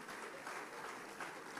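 Church congregation clapping during a sermon, a faint but continuous patter of many hands at steady level, heard from a distance.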